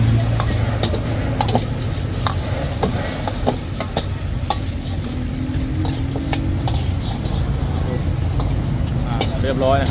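Noodles stir-fried in a flaming wok at a busy market street food stall: a continuous loud sizzle with rapid scraping and clanking of the spatula against the pan, and traffic and voices in the background.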